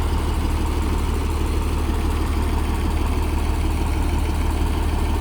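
A heavy engine idles steadily and loudly close by, a constant low rumble with a rough vibrating texture and no talking.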